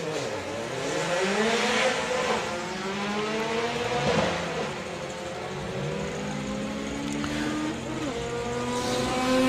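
Volkswagen drag race cars launch and run down the Santa Pod strip, their engines revving hard through rising and falling gear sweeps that overlap in a loud, continuous roar, with no voices.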